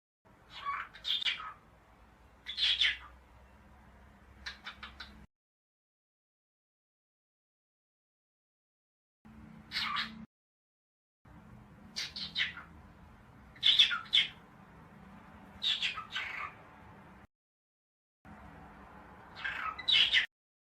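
Pet parrot beginning to talk: short, squawky, indistinct word-like chirps and whistles in scattered bursts with long silent gaps, faint and close over a low background hum.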